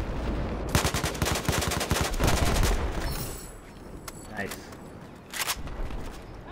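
Rapid bursts of automatic gunfire from a player's gun in Battlefield 4 multiplayer on Xbox One, sharp cracking shots in quick runs, then sparser single shots under a quieter game soundscape.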